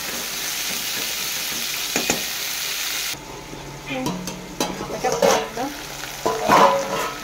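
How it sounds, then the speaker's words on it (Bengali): Onions and long-cut potato pieces frying together in a pan for a prawn and okra curry, a steady sizzle that turns busier with stirring and scraping in the second half. "পেঁয়াজ আলুটা একসাথে আমি ভেজে নেবো।"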